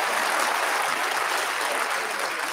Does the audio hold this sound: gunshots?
no